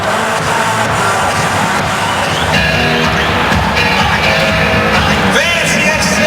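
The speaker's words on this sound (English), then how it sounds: "Another great crowd on hand" A large hockey arena crowd at a Dallas Stars vs Minnesota Wild NHL game in St. Paul, a continuous roar of cheering and yelling filling the space, with an announcer talking over it.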